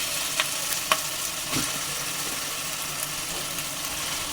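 Marinated fish pieces frying in hot oil, a steady close sizzle with occasional sharper pops and stirring scrapes, no talk.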